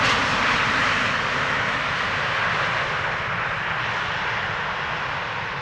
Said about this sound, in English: that was an E2 arriving from Manchester